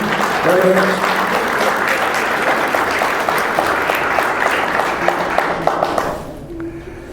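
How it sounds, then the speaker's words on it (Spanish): Church congregation applauding during a sermon, loud dense clapping with voices and shouts mixed in, tapering off near the end as the room quiets. "Dale un aplauso hacia Dios."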